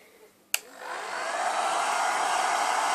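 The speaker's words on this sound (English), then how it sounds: "use a hairdryer" A hair dryer blows steadily on damp pet bedding, starting with a click and rising to a constant rushing whoosh that holds loud and close for several seconds, with no talking.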